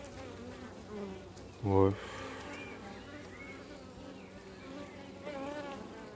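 A honeybee swarm buzzes softly and continuously around hive frames in an apiary, with one closer bee droning briefly past. A person says a single word under the buzzing.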